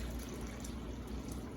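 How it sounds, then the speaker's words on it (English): A cup of water pours into a pot of stewing chicken and potatoes, a brief, steady gushing and splashing rush, close and fairly loud, with no talking. "adding 1 cup of water to this"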